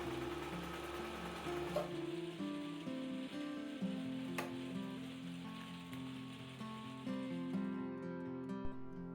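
A sewing machine top stitches a quilt block, a steady rapid needle chatter with a faint motor hum that runs close and even, with no voices.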